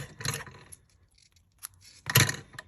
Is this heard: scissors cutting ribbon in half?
yes